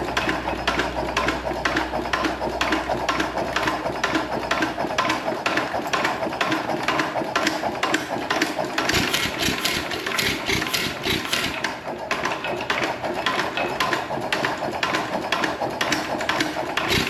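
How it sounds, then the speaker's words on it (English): A worn-out 1920s Ottawa drag saw engine, loose throughout, cranks and runs with a steady rapid chuffing beat close by, its loud loose mechanical clatter continuing unbroken for the whole stretch. "let's see if we can get it cranking again."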